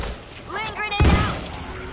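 Grenade explosion in the video game World War Z, a short muffled boom that hits abruptly right after a voice calls out and then trails off.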